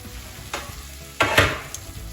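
Vegetables and mushrooms stir-fried in a pan for a broccoli and mushroom salad, a soft sizzle broken by a few sharp scrapes and clatters of stirring, the loudest burst near the end, close by with no voices.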